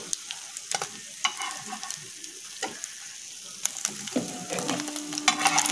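Egg omelettes frying in a pan, a soft sizzle punctuated by sharp spatula taps and scrapes at irregular intervals, with a brief low hum near the end; close and without speech.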